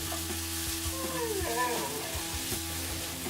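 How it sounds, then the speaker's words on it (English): Sliced peppers and onions for steak fajitas sizzle steadily in a hot pan, a continuous close frying hiss broken by light scraping as the vegetables are stirred. "now that our peppers and onions have been cooking for a couple of minutes"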